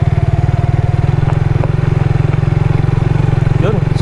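Suzuki Raider 150 FI motorcycle engine running steadily in second gear, a loud, continuous rapid pulsing drone with faint background clatter and no speech.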